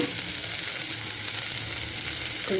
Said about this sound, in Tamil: ஃபஸ்ட்டு வெங்காயத்தை வதக்கி எடுத்துடலாம்